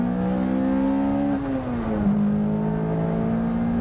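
A Lotus Elise's 1.8-liter four-cylinder engine revs hard onto its aggressive upper cam. The loud, steady engine tone climbs, dips briefly as if shifting, then settles into a sustained high drone.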